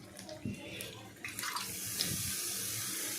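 A little water poured into a pan of paneer korma and stirred, a short close splash and trickle that turns into a steady watery rush.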